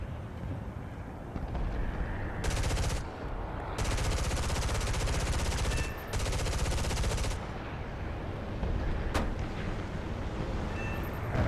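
Machine guns chatter on and off at a steady distance during a War Thunder air battle with a B-29 bomber's gunners, sustained bursts layered over a constant engine drone.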